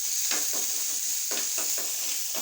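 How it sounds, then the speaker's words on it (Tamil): Mustard seeds, urad dal, curry leaves and onion frying in oil, heard as a steady hiss with repeated scraping stirs of a utensil through the pan. "இப்போ இந்த அடுப்பில் எண்ணெய் காஞ்சிட்டு கடுகு, உளுந்தம்பருப்பு, கருவேப்பிலை, வெங்காயம், மிளகாய் எல்லாம் போட்டு"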